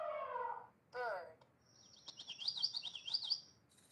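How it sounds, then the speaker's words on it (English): A short run of high, rapid bird chirps and tweets follows a spoken voice in a classroom animal-sounds demonstration. The chirps are clear but fairly soft. "Bird."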